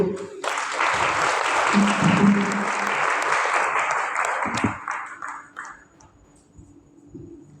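Audience applause breaks out after a speech at a gender-agenda investment event, loud and sustained for several seconds with a faint voice underneath, then thinning and fading out toward the end.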